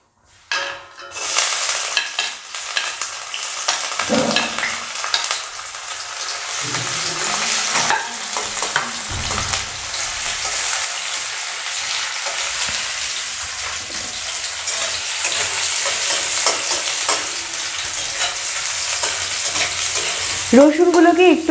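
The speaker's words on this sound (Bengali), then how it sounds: "এর মধ্যে আমি এখানে দিয়ে দিচ্ছি ফার্স্টে আমি এখানে অ্যাড করে দেব কুচি করে কেটে রাখা রসুনগুলো" Chopped garlic frying in hot oil for vegetable spring rolls, a loud, continuous bright sizzle that crackles and hisses throughout, with occasional stirring scrapes and a sharper spatter near the end.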